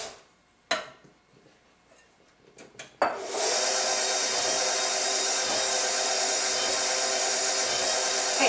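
After a few light clatters, an electric mixer whirs to life and runs loud and steady, beating coconut cake batter with flour and half and half.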